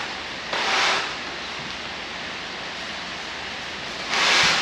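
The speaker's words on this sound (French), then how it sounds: "il pleut à fond" Heavy rain pours down in a steady, dense hiss that swells louder twice in brief surges, with no one talking.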